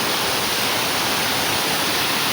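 Continuous broadband rush of falling water at Maliguda waterfall in Koraput, Odisha, a steady roar heard up close with no voices over it.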